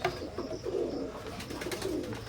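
A pair of imported-bloodline Teddy pigeons cooing close by, soft repeated throaty coos in a slow rhythm over a low background hum, no voices.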